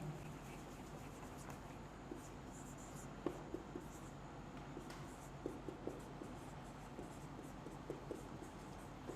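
Chalk or marker scratching across a classroom board as a teacher writes, faint intermittent taps and strokes over a quiet room hum, with no speech heard.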